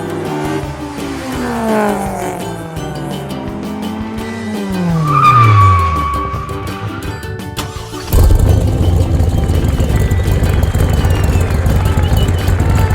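Toy construction vehicles race on a built race track, with playful vocal-like engine revs and sweeping pitch slides in the first half, then a sudden loud rushing, rumbling noise that continues to the end.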